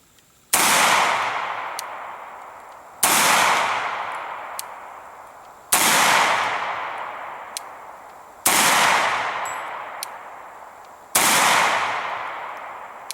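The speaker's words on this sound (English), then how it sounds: "we're going to be firing some 115 grain Rangers, followed up by the 124 grain Gold Dot, and then 124 grain plus P HST rounds" A SIG Sauer P229 9mm pistol fires five loud, sharp shots spaced about two and a half seconds apart, each ringing out with a long decaying echo, using 115 grain, 124 grain and 124 grain +P rounds.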